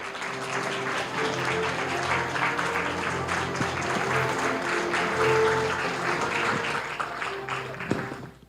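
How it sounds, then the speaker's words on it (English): Audience applause for President Tsai arriving on stage at an open parliament forum, a dense steady clatter of many hands lasting the whole stretch, fairly loud and even, with a brief louder patch near the end. "A round of applause to President Tsai."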